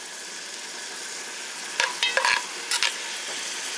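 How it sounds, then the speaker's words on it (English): Onions sweating in a pan give a quiet, even sizzle, broken by a few short bursts of spoon stirring and scraping near the middle. "Sweat them onions a little more."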